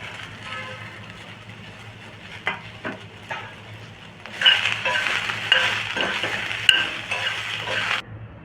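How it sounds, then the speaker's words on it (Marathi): Peas and mixed vegetables sautéed in oil in a pan: quiet scraping and stirring at first, then a loud bright sizzle swells up and holds, with a few utensil clinks. "ह्यामध्ये मटार, ती पण अगदी हलकीशी थोडीशी ह्याच्यामध्ये परतून घेऊया"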